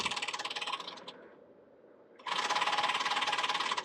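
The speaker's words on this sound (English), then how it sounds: "Cycles the stick shaker twice." A HondaJet stick shaker cycled twice during a preflight cockpit test: a loud, steady mechanical rattling buzz that cuts out for about a second and then comes back just as strong, with no voices.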